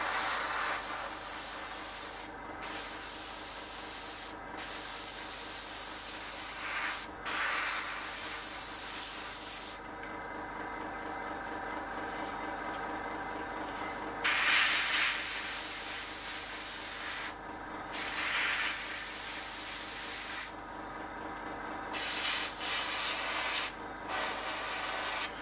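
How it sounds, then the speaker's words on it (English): An airbrush sprays paint onto a Seafire XV scale model aircraft, a close, continuous hiss in long bursts broken by short pauses and brief louder puffs, with no talking. "I'm hoping you can see that how quickly and easily this is being sprayed now."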